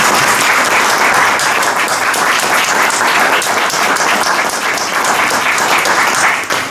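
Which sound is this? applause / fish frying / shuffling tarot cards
applause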